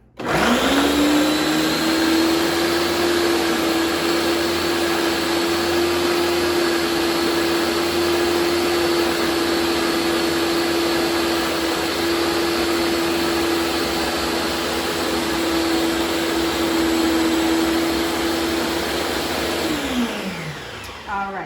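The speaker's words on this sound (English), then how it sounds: "put it on high so that way I make sure that everything is blended together nicely" A blender runs on high, blending Haitian epis ingredients into a marinade sauce. It makes a loud, steady motor whine with a constant pitch for about twenty seconds, then winds down at the end. Nobody speaks.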